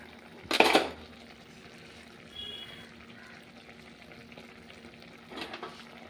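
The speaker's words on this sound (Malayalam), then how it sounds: "നമുക്കിതിലോട്ട് അരപ്പൊഴിച്ചു കൊടുക്കാം" Ground coconut paste is poured into a simmering curry of dried fish and raw plantain, giving a brief burst of sizzle and splash, then a quiet bubbling and a faint second stir.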